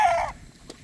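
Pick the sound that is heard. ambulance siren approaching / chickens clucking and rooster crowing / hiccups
chickens clucking and rooster crowing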